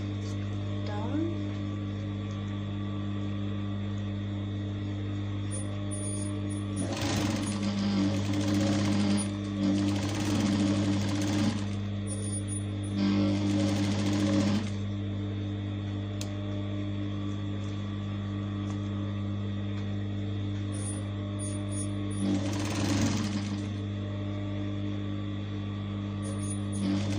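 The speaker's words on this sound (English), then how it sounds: "once you're done stitching" Over a constant electrical hum, a sewing machine top-stitching a packaging bag runs in several short bursts of a few seconds each, separated by pauses, close and moderately loud.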